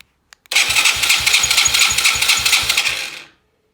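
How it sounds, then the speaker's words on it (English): A Taotao Chinese quad with remote-start wiring cranks and fires up: a couple of faint clicks, then a loud, fast rhythmic engine chug that runs steadily for under three seconds before cutting off, with no talk. "hit the start button and the thing cranks"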